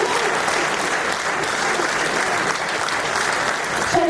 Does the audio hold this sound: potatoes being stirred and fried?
no